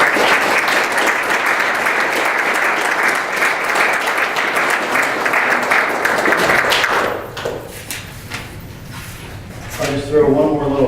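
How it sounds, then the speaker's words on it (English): A crowd at a Scotia-Glenville fire department awards ceremony gives firefighters a loud, sustained round of applause for about seven seconds, which then dies away into scattered thumps and faint background sounds. "Please give them a round of applause."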